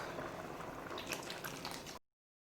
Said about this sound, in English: now I'm gonna add the coconut milk